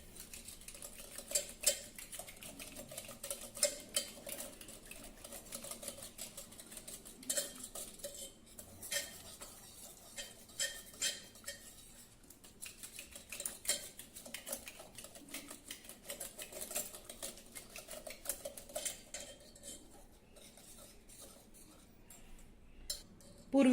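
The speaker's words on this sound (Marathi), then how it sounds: "आता हे आपल्याला घोटून घ्यायचं आहे." Soft-cooked mixed lentils are mashed and churned in a pot, making quiet, irregular clicks, taps and scrapes of the utensil against the vessel that continue throughout at a close but low level.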